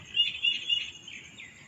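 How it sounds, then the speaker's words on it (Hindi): Birds chirping outdoors in the early morning in repeated high, bright calls, several in quick succession then softer, over a faint low background hum. "परिंदों की आवाज़ें आ रही हैं।"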